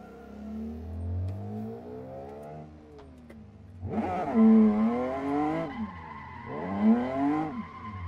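A car in the Assetto Corsa racing game slides off the road, its tires squealing in long wavering skids over a droning engine, with two loud drawn-out bursts of screeching near the end.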